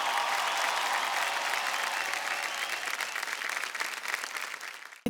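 A studio audience at a folk singing reality show claps loudly and continuously, a dense applause that thins slightly toward the end with no voices over it.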